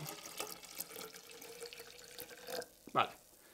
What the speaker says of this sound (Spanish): Y ahora seguimos llenando hasta medio litro, que este agua también está a 20 grados